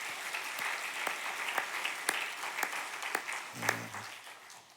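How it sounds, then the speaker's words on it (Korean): A church congregation claps to encourage Sunday school students, a steady round of moderate applause with sharp individual claps, and a short low voice near the end. "우리 박수로 한번 격려하겠습니다"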